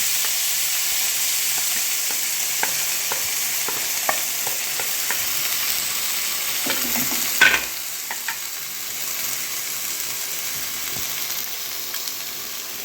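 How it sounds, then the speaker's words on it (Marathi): Garlic and fenugreek fry in a pan with a loud, continuous sizzle and light stirring clicks, then a sharper scrape midway before the hiss settles slightly quieter. "लसूण जरा फ्राय करून घ्यायचं"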